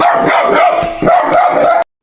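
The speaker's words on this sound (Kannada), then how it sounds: "ನಾಯಿ ನೋಡಿ, ನಾಯಿ" A dog barks loudly and repeatedly in quick succession, close by, with a brief yip mixed in, then stops abruptly.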